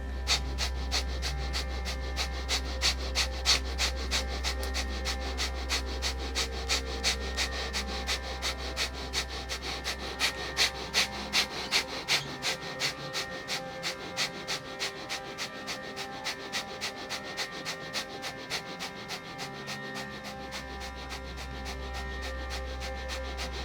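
During a tantric breathing practice, deep breaths are drawn in and pushed out through the nose in a steady rhythm of close, soft rushes, over a low droning music bed and a faint pulsing tick.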